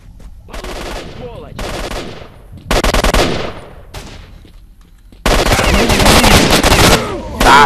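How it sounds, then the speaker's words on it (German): Bursts of automatic gunfire from the video game Stalker, loud and near, coming in rapid volleys separated by brief pauses, with a sustained heavy barrage toward the end. "die ballern schon auf ihn"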